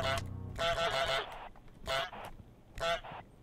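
A goose honks through a walkie-talkie in the Goose Simulator video game, giving several loud, nasal, slightly distorted calls in short bursts with brief pauses, with no talk over them.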